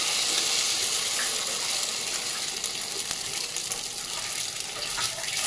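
Batter poured onto a griddle (chatu) of hot oil sizzles with a steady, close hiss that holds loud and even throughout.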